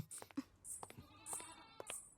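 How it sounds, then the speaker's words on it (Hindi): A small sheep bleats in short high repeated cries, faint and a little distant, with sharp clicks and rustling in between. "वो देखो, छोटी भेड़ है वो"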